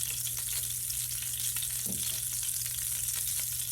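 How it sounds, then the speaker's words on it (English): Two tablespoons of butter sizzle steadily as they melt into hot oil in a pan, the start of a sauce for Cajun salmon pasta; a constant close hiss runs alone with a low background hum and no talking. "I'm gonna take 2 tablespoons of butter and put into this oil"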